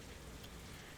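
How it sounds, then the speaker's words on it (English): Heavy rain pouring down outside in a sudden downpour, a dense steady hiss of drops drumming on surfaces, continuous and fairly loud, with no talk over it. "Sorry if you hear the rain outside. It just started downpouring a lot."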